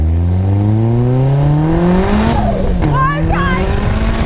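An ex-demo RX-5 250 race car with a 375 bhp engine revs hard on a test drive, a loud, close engine note climbing in pitch, dipping with a gear change, then rising again.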